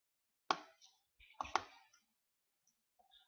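Computer mouse clicks in a quiet room: one sharp click, then a close pair of clicks about a second later, crisp and near with silence between.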